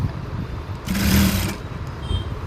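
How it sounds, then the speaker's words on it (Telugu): A sewing machine stitching thread piping on a round neckline runs in a single brief whirring burst of under a second, close and steady, set against quiet room noise. "ఇదిగోండి మొత్తం ఇలా స్ట్రైట్గా మనం స్టిచ్ చేసుకుంటాం అన్నమాట."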